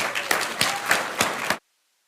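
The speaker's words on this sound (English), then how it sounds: "One more round of applause." Applause at a graduation stole ceremony, a crowd clapping in a few rhythmic surges for about a second and a half before cutting off abruptly into silence.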